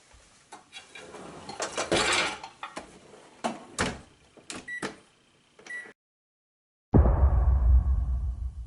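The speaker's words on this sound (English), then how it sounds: "I have more dishes to put away than things to say. Boy, this is a lot of dishes." Dishes being put away in a kitchen, with repeated clinks and clatters of plates and cutlery at an irregular rhythm, up close, then a louder rushing burst near the end.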